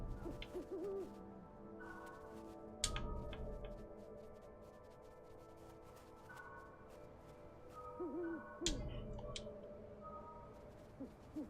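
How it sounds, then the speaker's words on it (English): An owl hoots repeatedly in the video game Never Alone, soft low calls over a wintry ambient music bed with occasional sharp clicks and bursts, fairly quiet and unhurried. "Oh, look at the owl."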